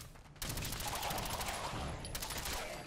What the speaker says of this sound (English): I'm loving the explosive bullets with the machine gun